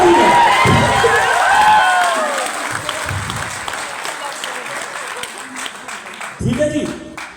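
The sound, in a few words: loud applause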